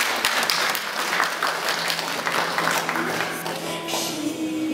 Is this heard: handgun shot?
no